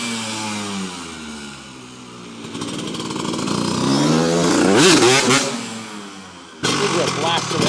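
A 1997 Honda CR125R two-stroke motocross motorcycle revs loudly and close, its engine rising and falling in pitch with sharp throttle blips, mixed with speech.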